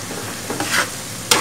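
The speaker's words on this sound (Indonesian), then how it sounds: "Dan ketika kacang sedang digoreng" Peanuts sizzle steadily in hot oil, with stirring scrapes and a sharp clatter near the end.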